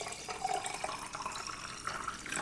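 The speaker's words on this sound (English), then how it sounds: "I'm going to fill that with water to the top." Tap water runs into a jar to start a ginger bug, a soft, steady, fairly faint trickle and splash of filling liquid.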